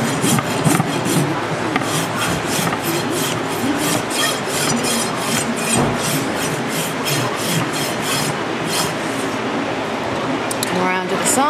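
A hoof rasp scrapes across a horse's hoof in steady, rhythmic strokes, each one a loud gritty rub at close range, with a voice talking softly underneath.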